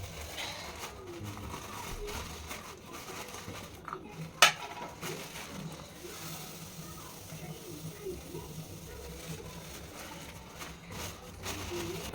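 Pots and utensils clink and scrape in a home kitchen while kesari bath is being prepared, with one sharp metallic clank standing out amid steady low clatter and background hum.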